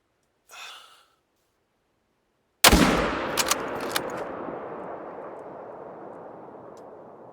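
A single loud hunting rifle shot in theHunter: Call of the Wild cracks sharply, then a long rumbling echo rolls away and fades over several seconds, with a brief breath or gasp heard just before.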